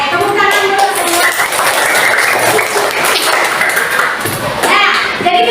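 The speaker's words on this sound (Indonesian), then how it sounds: "Oke, tepuk tangan dulu semua." A class of schoolchildren claps together in a classroom, a loud, dense burst of applause running steadily throughout, with young voices calling out over it.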